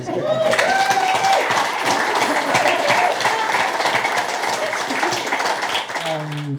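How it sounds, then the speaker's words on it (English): Steady audience applause fills a marketing panel event for almost seven seconds, dense and fairly loud clapping with faint voices underneath, fading at the end as a speaker begins talking. "everybody's itching to give them a preemptive round of applause"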